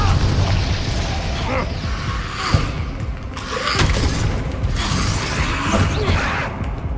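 Fiery blasts from the Confringo spell in Hogwarts Legacy, a string of booming bursts layered over ongoing game noise, with a voice speaking between the explosions.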